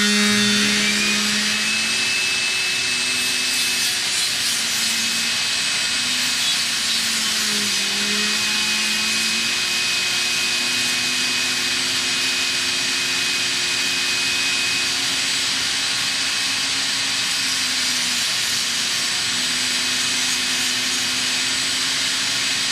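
A Woodchuck taper tool whines steadily as it cuts a taper onto a wooden arrow shaft for the nock, with a shop vacuum roaring continuously alongside; the loud, sustained motor noise shifts slightly in pitch throughout, with no talking.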